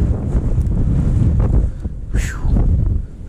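Strong gusty wind buffeting the microphone at a fishing spot on a bank while crappie fishing, a loud low rumble that rises and falls throughout.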